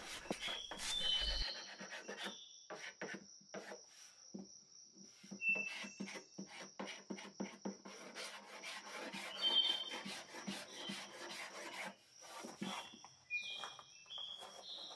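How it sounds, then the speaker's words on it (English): A scraper working over damaged oak veneer on a furniture top, giving repeated short rasping strokes at a quiet, close level, with faint crickets and birds chirping in the background. "So I think this is enough scraping for the top"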